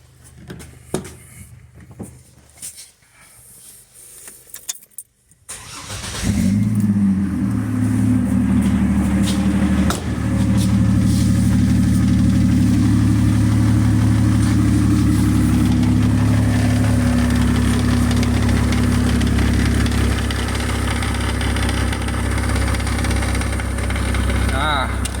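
Chevrolet Trailblazer engine cranking and catching after a few seconds of quieter handling noise, then settling into a loud, steady close-up idle with a low rumble and faint rattle, with someone talking briefly.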